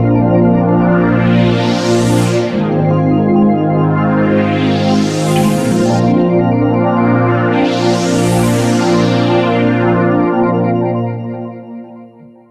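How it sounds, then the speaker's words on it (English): A sustained, heavily layered synth guitar tone from a Roland GR-55 guitar synthesizer, based on a Stratocaster, with three slow, bright filter sweeps rising and falling, played alone and fading out at the end. "I'm going to add another real sweeping sound."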